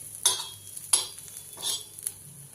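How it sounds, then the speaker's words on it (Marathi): Chopped onion is pushed aside with a spatula across a hot tawa griddle, giving three or four scraping, sizzling strokes close by with brief pauses between them and no talk. "हा कांदा मी थोडासा बाजूला तव्यावरच असा सरकवून घेते"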